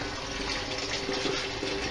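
Tap water running steadily into a brewing kettle, filling it with strike water for a coconut IPA brew day; a continuous, even gush of splashing water, close and alone, with no talk.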